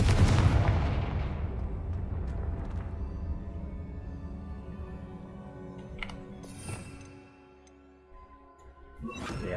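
Confringo fire spell blast in the Hogwarts Legacy video game: a loud, booming burst at the start that fades into a long rumbling decay, followed by a couple of sharper cracks and a final burst near the end.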